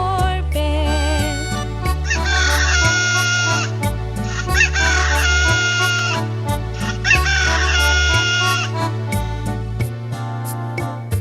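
Hen clucks and a rooster's crow repeat in a regular pattern over a bright, bouncy children's song with a steady beat.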